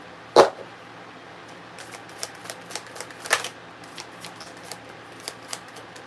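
Ancestor oracle cards handled and shuffled close by, a sharp slap at the start then a soft irregular series of light papery ticks and flicks, quiet and unaccompanied by speech.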